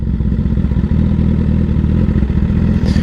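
Steady, loud motorcycle engine running close by at a low rumbling idle-to-light-throttle level, with a dense mechanical clatter and slight pulsing throughout and no voices.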